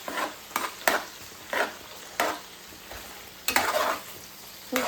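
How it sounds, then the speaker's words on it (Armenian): Garlic frying in a pan is stirred with a utensil, giving a soft steady sizzle broken by short scraping strokes every second or so, close and clear with no talking. "խառնում եմ"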